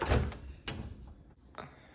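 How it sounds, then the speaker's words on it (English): A microwave door swings open with a soft clunk, followed by a couple of lighter knocks and rattles nearby. "Open up the door."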